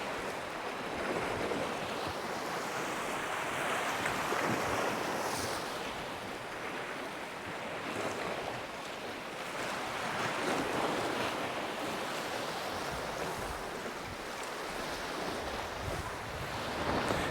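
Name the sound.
gust of wind and waves on the sea shore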